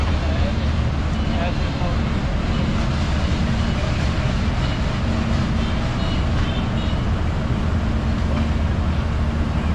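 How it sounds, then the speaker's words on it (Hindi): The 12 Down Hazara Express pulls out of Haripur Hazara railway station with a steady, loud, dense rumble and rolling noise that holds evenly throughout. "12 डाउन हज़ारा एक्सप्रेस बढ़ रही है"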